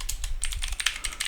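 Rapid, light keystrokes on a computer keyboard while code is typed, a quiet, close, steady patter of clicks with no talking.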